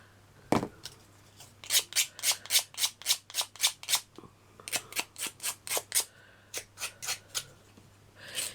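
Metal snips cut straight along a thin metal strip, giving a run of about twenty sharp, evenly spaced crisp snaps, close and clear, with a brief pause midway before the cuts resume.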